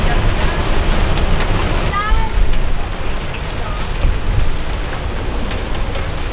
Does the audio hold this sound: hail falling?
yes